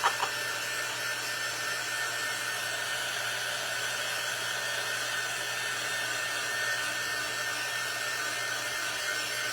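A hair dryer drying paint on a door runs as a steady, constant blowing whir close by, level throughout with no pauses or talk.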